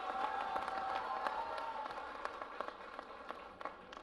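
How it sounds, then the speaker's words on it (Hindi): An audience at a literary festival claps, with scattered, uneven hand claps and some crowd murmur that thin out and grow sparser toward the end, heard at a modest distance. "एक सुना दो, तालियां बजा दो फिर आप"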